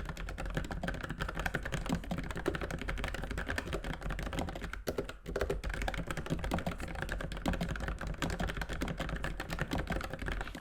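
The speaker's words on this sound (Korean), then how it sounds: "기계식 키보드 안에서도 정숙한 소리가 나죠" Quiet, steady keystrokes on a Logitech MX Mechanical with low-profile tactile switches, a fast continuous patter of soft clicks with a brief pause near the middle, close and alone.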